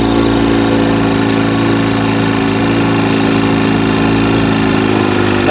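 A vintage outboard boat motor idling smoothly and close up, a loud steady mid-pitched engine drone with even firing and no talk over it.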